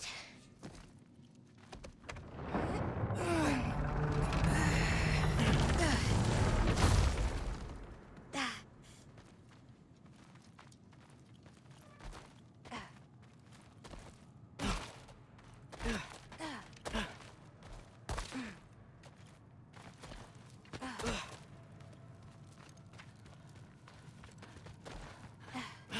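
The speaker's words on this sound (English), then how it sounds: "I think I can hear something breathing near the back of the cellar." A creature breathes in a cellar in the video game God of War Ragnarök, a loud, rushing breath lasting several seconds, followed by scattered thuds and footstep-like knocks in a quiet space.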